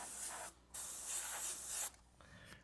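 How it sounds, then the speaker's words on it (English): Bursts of spray from a spray gun passing through a tack rag laid over a fabric-wrapped piece, two steady hissing blasts separated by brief pauses, close and fairly loud. "So you watch here and I spray through again."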